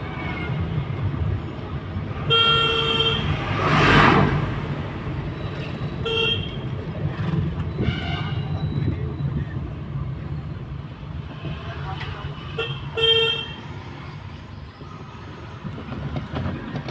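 Heavy road traffic in Barasat, Kolkata, heard from inside a moving car, with a steady rumble and several loud car horn honks scattered through it, some short and some drawn out.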